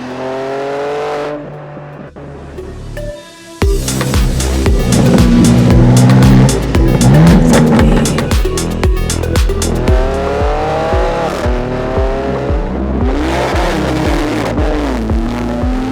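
A BMW G87 M2 accelerates hard, its engine rising through revs in loud repeated pulls with gear shifts between them, heard close and without talk.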